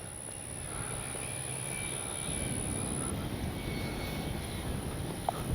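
FMS P-51 Miss America RC plane flying in a crosswind, its small propeller engine giving a steady, moderately faint whirring drone with a high thin whine above, continuing without talk.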